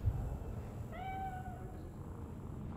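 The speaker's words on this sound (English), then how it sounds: "Another cat?" A single short cat meow rises and falls in Cyberpunk 2077, fairly faint over a constant low background drone.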